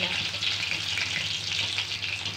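Rohu fish pieces fry in hot oil, giving a dense, continuous bright sizzle that stays loud and even throughout, heard up close with no voices.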